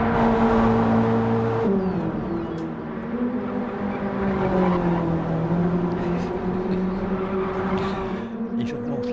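A race car engine on a flying lap at Circuit Gilles Villeneuve in Gran Turismo 7, on sports soft tyres. A loud, continuous engine drone climbs and drops in pitch through gear changes, with a commentator talking over it.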